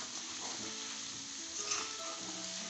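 Potatoes frying and being stirred in a karahi over a high flame give a steady, close sizzle with light scraping throughout.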